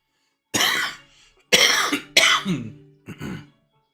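Several harsh coughs and throat-clearing bursts from a COVID cough in quick succession, close and loud, with short pauses between them and no talking.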